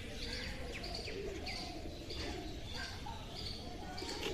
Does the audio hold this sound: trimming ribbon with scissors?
no